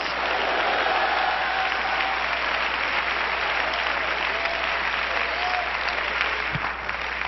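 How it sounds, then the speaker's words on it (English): A church congregation claps steadily through a worship service, a loud sustained wall of applause with a few faint shouts and voices rising out of it. "Clap your hands and shout hallelujah."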